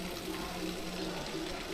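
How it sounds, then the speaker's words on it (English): Water flowing over a stone-structure waterfall at a scenic site in Kunming, Yunnan, China, heard as a steady, even rush of falling water that continues without a break across the moment. "Gorgeous waterfall over there."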